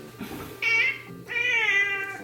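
A cat in a cat video being edited gives two clear, drawn-out meows, the second longer, heard close up over a quiet room background.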